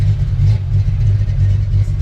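A car engine runs steadily while driving on a frozen winter day, a loud, continuous low rumble with no distinct rev peaks, heard alone.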